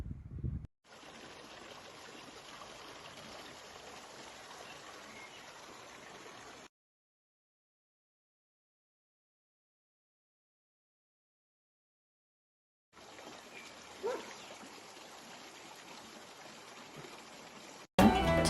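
The Vararak river flows beneath a modest old handmade bridge near Karahunj, a steady rushing and trickling of water heard in two long stretches with a silent gap between them.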